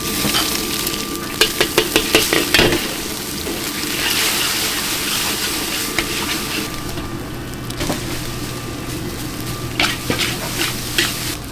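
Fried rice, a restaurant's signature dish, stir-fried in a pan with a steady loud sizzle, repeated sharp clacks of the utensil against the metal, and bursts of tossing throughout.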